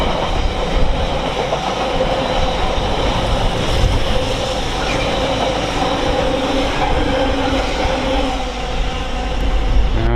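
A train passes through Stafford station on the West Coast Main Line, a loud, steady rumble with rail clatter that fills the whole stretch without easing.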